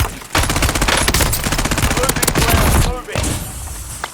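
Rapid, loud hand cannon gunfire in the video game Warzone in a sustained volley, with a brief pause before a final burst of shots.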